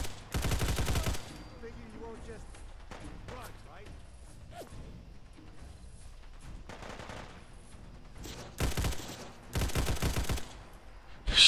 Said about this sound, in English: Shooting the guy with a flamethrower.